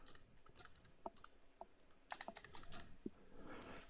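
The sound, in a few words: typing a credit card number on a computer keyboard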